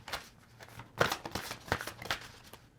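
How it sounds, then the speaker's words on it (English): A deck of tarot cards is shuffled at close range during a card reading, giving soft riffling bursts and sharper snaps in an uneven rhythm, with no talking over it. "I'm going to draw one more because I was shuffling"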